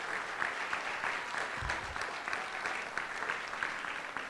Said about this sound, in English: if everybody can just give a round of applause to Richie.